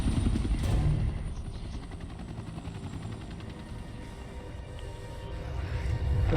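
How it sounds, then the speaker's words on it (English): Helicopter in the video game Resident Evil Revelations 2, a steady low rotor rumble with dense broadband noise that dips slightly mid-clip and swells again toward the end, with faint rattling like distant gunfire. "I'll cover you from the chopper!"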